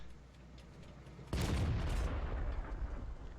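Tank cannon fire in World of Tanks from a T-54 lightweight firing at bushes: one sudden loud blast that starts about a third of the way in, followed by a long roaring echo and rumble.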